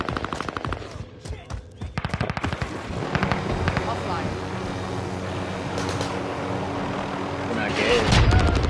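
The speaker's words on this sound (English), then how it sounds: "this man threw a grenade at me" Video game battle with gunfire and a grenade: rapid bursts of automatic fire, then a dense, sustained barrage of shots and blasts building to a heavier explosion at the end, with players talking over it.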